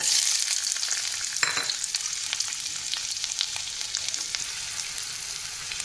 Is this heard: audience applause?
no